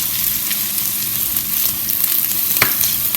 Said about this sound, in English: And if it sizzles, it's ready for you to place the batter in the pan